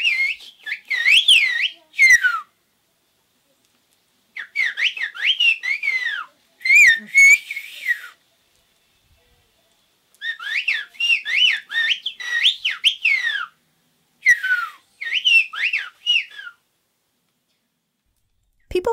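Two Greek village herders trade bursts of loud, warbling whistles that rise and fall like speech, separated by stretches of silence, with no spoken words.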